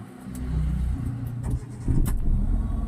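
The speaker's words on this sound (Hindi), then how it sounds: "अब जो है इंजन स्टार्ट करो" A driving-school car's engine in Lucknow starts and settles into a steady, close, low rumble that swells slightly with revving toward the end, with no talking.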